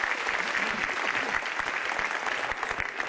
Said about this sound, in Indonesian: Tepuk tangan buat Metro TV.